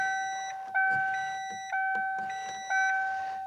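Power side mirror motor on a flood-damaged Mustang Cobra hums in three short bursts, each a steady whine with a faint tonal buzz, close and fairly quiet.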